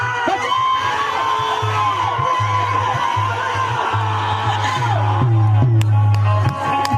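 An audience at a live stage show between two performers shouts, whoops and cheers loudly and without a break. The noisy crowd stays dense and close throughout, with individual yells rising out of the din.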